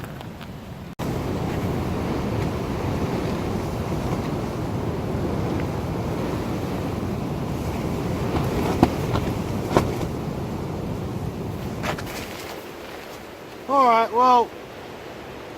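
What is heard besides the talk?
heavy wind at campsite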